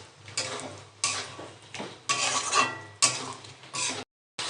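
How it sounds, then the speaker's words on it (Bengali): Fried eggs being stirred into an egg curry in a pan, giving a series of scraping, clinking stirring strokes at roughly one-second intervals over a soft background, fairly close and moderate in level, with no talking. "এখন আমি ভেজে রাখা ডিমগুলো সব দিয়ে দেবো, দিয়ে আবার নাড়াচাড়া করব।"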